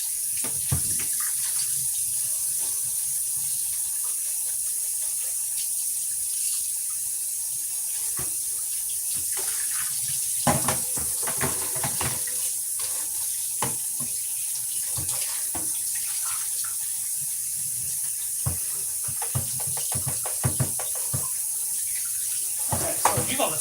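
Hot water streams from a kitchen tap over a bowl to rinse off cheese, a steady hissing flow with scattered splashes and clinks, while someone talks intermittently.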